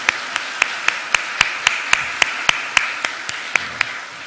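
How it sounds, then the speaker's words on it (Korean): A church congregation applauds for a president, heard as sharp, evenly spaced claps in a steady rhythm, clear and close against a quiet background. "우리 총장님을 위해서 큰 박수 한번 우리 분들 드리겠습니다"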